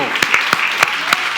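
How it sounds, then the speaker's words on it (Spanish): A church congregation at a Good Friday service claps for the Lord in a brief, sparse burst, with a few sharp, separate claps standing out over a steady room hum. "Désemos un fuerte aplauso al Señor."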